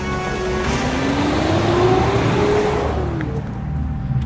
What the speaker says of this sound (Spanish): Solo me levanté y corrí a mi carro acelerando a lo que tope.